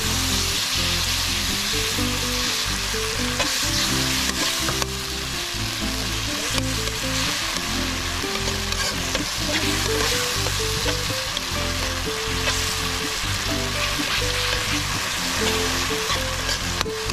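Leftover fried pork, lechon kawali, fries in a pan at a backyard cook while being stirred, giving a loud, continuous, close sizzle and crackle throughout with no talking.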